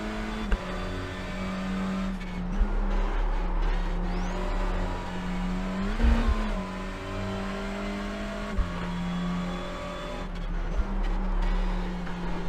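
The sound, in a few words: race car engine in racing video game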